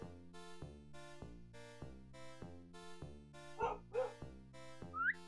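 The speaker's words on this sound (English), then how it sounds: "See, now the dog's pissed off." A dog barks in the point-and-click video game Beneath a Steel Sky, a few short yelping barks and a whine breaking over looping rhythmic game music.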